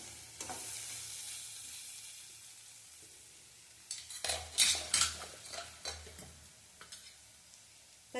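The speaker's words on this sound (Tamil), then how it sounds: "புடலங்காய் எண்ணெயிலே நல்லா வதங்கிருச்சு." Snake gourd sautés in oil with a low background sizzle, then a spoon scrapes and clatters against the pan in a quick burst of stirring strokes before it settles again.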